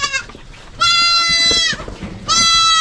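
Goats on a farm with newborn kids, mostly males, bleat in two long, loud, nasal calls from close by, with a shorter cry at the very start and quiet gaps between.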